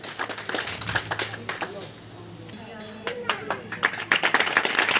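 A crowd at a political gathering claps in scattered, uneven bursts to welcome Sunaina Chautala, with voices speaking over the clapping.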